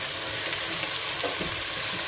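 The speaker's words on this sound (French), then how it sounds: "On mélange." Bolognese sauce for spaghetti sizzles steadily in a pan while being stirred with parsley added, a close, continuous frying hiss with soft scraping of the stir.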